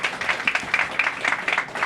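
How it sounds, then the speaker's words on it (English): Audience applause at a U.S. Department of Housing and Urban Development event: a brief steady patter of many hands clapping at moderate volume. "So I'd ask that you give them a round of applause as well."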